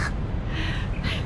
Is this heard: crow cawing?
yes